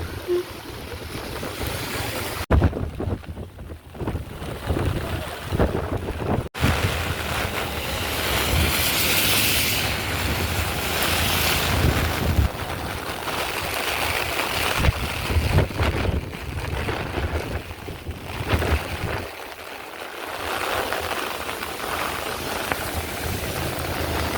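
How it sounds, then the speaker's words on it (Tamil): Strong wind roars into the microphone over the steady wash of waves breaking and rushing, loud and continuous throughout, during flooding in Jaffna. "காற்றுக்கு வந்து அலைகள் எல்லாம் வந்து வேகமாக ஓடிக்கொண்டிருக்கிறது பாருங்கோ"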